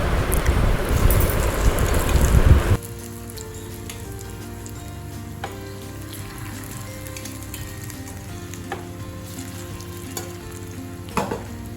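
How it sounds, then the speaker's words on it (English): Cauliflower pakodas deep-frying in hot oil give a loud, dense sizzle for the first few seconds, then drop abruptly to a quiet, steady background hum with only faint crackles. "So now I'm going to fry the cauliflower."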